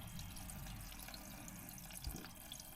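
Water drains steadily from the reservoir of a junk Ditch Witch 1820 trencher, a faint, continuous trickle with a soft splash near the end and no talking.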